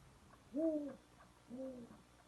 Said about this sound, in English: Another African species here, the spotted eagle owl.